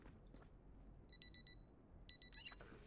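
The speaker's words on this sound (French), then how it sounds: "Il semblerait que j'ai une alarme sur ma montre." Wristwatch alarm in the zombie survival game Project Zomboid, two short bursts of rapid high electronic beeps, each a quick run of four pips, over a quiet low background rumble.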